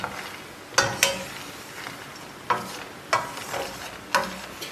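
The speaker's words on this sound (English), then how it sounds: "if you're just trying to roast peanuts on their own," Peanuts roasting in peanut oil in a pan, a soft sizzle underneath as a utensil scrapes and stirs them in sharp strokes, about five distinct scrapes at uneven intervals.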